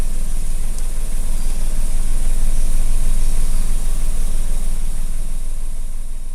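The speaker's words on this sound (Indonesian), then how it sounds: "Mesin mobil juga dalam keadaan menyala ya." A car engine idles at a steady, even RPM, a constant low rumble with a faint vibration holding unchanged from start to finish, with no voices.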